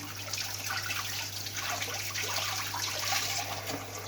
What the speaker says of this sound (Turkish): Elini kestikten sonra yıkıyorum.